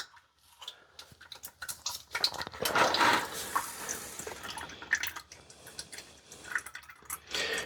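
Transfer case fluid draining from a Toyota Tundra, heard as a steady, close trickle with irregular drips and small splashes running throughout.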